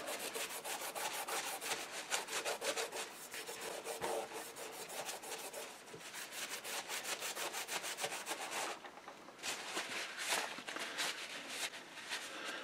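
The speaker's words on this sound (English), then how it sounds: "we're doing the scrub here." Steady rapid back-and-forth scrubbing of car interior components, a close, rasping brush stroke rhythm that continues without pause for several seconds, with no talking.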